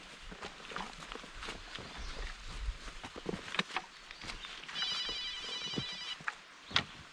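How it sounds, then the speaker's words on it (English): A phone rings on a wooded hiking trail through old oil-boom country in a state park, a faint electronic ringtone trilling for about a second and a half amid footsteps, rustling and light breeze. "Phone call."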